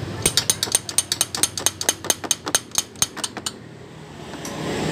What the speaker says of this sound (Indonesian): Oke, kita pukul sedikit ya pakai obeng dari sini.